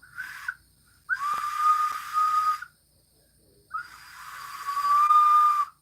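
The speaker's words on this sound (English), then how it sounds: "They're whistles." Breathy ocarina whistle tones: one short note, then two long sustained notes separated by pauses, clear and close by.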